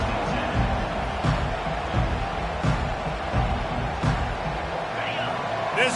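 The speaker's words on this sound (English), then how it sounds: "This crowd trying to make life miserable for this offense." Loud stadium crowd roars at a Miami vs Clemson college football game, a dense continuous din of cheering and noise, with a commentator talking over it.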